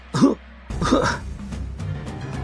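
Two rough coughs, close and fairly loud, separated by a short pause, followed by faint lingering rustling.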